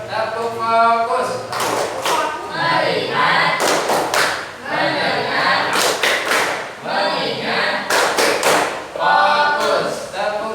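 A group, apparently children with a teacher, chants and claps in unison through the rhythmic tepuk fokus clapping game, loud bursts of sharp claps separated by chanted voices in a repeating pattern.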